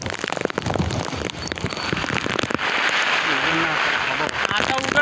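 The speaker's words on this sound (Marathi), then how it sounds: "आता उघडना पाऊस" Heavy rain storm pouring down, a rough broadband roar that grows steady and loud in the second half, preceded by crackly bursts, with people talking over it.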